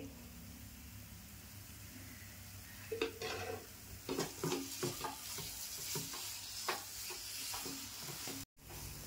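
A thickening sweet mixture cooked in a pan with a spoonful of ghee, soft sizzling under bursts of stirring and scraping from the middle onward, quiet and close, no talk.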